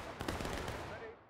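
Musket volley fire in the video game War of Rights, set at an Antietam Sunken Lane reenactment: a dense crackle of overlapping shots bursts out near the start and rolls on as a ragged, sustained fusillade.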